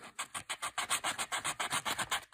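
Close, steady rhythmic rasping of sandpaper worked back and forth over a small wooden odometer wheel for a model car, about a dozen even strokes in quick succession with no talk.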